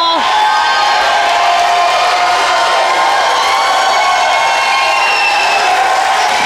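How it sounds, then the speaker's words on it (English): A wrestling crowd at Stage AE roars and cheers continuously through a chaotic four-way steel cage tag match, loud and dense with whoops and shouts throughout. "The crowd here at Stage AE is electric."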